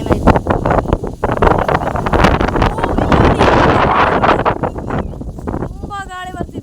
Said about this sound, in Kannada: ತುಂಬ ಗಾಳಿ ಬರ್ತಿದೆ.